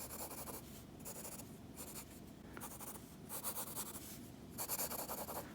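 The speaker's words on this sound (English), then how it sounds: "as I'm sketching" A pencil scratches and rubs across paper while sketching a three-dimensional square, in repeated soft strokes of varying length, close and quiet, with no one talking.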